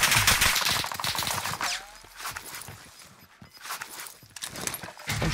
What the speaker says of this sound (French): Il est marrant ce missile, les gars. C'est un Strela.